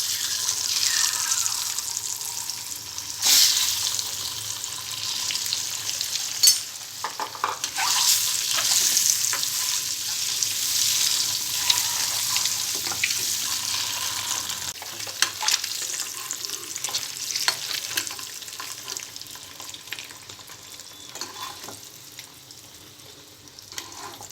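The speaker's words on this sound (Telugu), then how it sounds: "ఇందులో ఉడికించిన ఎగ్స్ ఫ్రై చేసుకోవాలి." Boiled eggs fry in hot oil seasoned with turmeric and chili powder for a masala egg curry, a steady close sizzle broken by scraping stirs and occasional louder spatters, with no talking.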